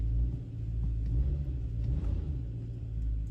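Low, steady engine rumble from a 4th gen Toyota 4Runner being given a little gas in reverse with the parking brake set, a close idle drone that swells slightly without revving high.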